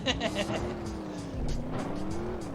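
Car engine droning steadily with a squealing tire as it turns, from the video game Driver 2, a sustained tone bending in pitch over a couple of seconds beneath a voice.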